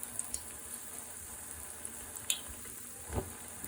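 Potato cutlets frying in a small amount of oil, a faint steady sizzle with a couple of small pops and stirring touches, no voices.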